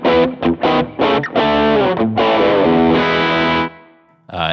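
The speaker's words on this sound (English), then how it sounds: "that, to me, is just a glorious overdriven tone." A heavily overdriven electric guitar plays a run of thick, sustained chords and notes, loud and close, before ringing out and briefly falling quiet.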